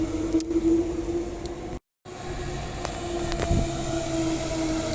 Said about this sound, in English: And there's the Perth bound train, the next Victoria Park one.